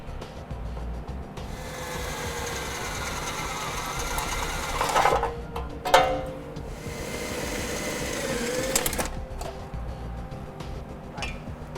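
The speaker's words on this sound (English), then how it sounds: "next we're going to need to drill out these two rivets here on the heat shield." A power drill bores out the rivets holding the heat shield under a 2014 Nissan Altima, a steady mechanical whir broken by louder grinding bursts as the bit bites through.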